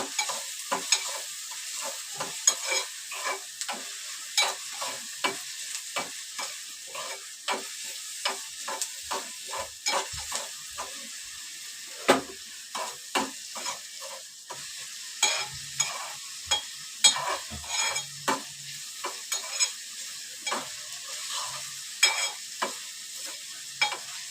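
Chilli, garlic and crushed ginger frying in a pan for anda bhurji, rapid crackling spits and pops over a soft hiss, with frequent sharp bursts and spoon stirring, nearby and continuous.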